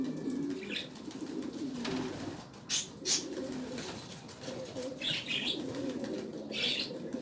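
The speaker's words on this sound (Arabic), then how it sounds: "دف ليا باغا طير ها دف ليا غادا طير شتي كتسرح بجنيحاتها" A pigeon taking flight with flapping wings over a house: soft, repeated wingbeats and fluttering, along with low cooing and bird sounds, against steady outdoor background noise.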